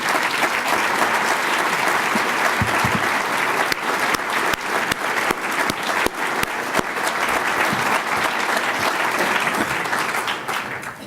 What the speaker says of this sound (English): they deserve that round of applause